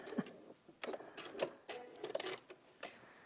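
A home sewing machine stitching fabric during a live sewing session, making short bursts of mechanical whirring and clicking separated by brief pauses, close and moderately loud with no talk.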